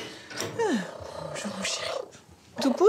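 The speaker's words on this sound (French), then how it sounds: "il ronronne comme ça" Loud, close purring from a thin rescued cat taken in from the pound, steady and rumbling through most of the clip while someone speaks softly to it.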